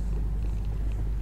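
A close, steady cat purr in the video game Summer of 58, low and rumbling, continuing evenly without a break.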